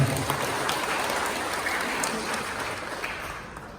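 Participants at a technical briefing and handover event in Blitar applaud themselves, producing a fairly even, rain-like wash of many hands clapping that tapers off gradually toward the end.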